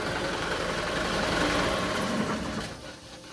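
A used Mitsubishi Canter truck's diesel engine runs steadily nearby with its oil filler cap open, a dense rumbling clatter that holds for a few seconds before easing off.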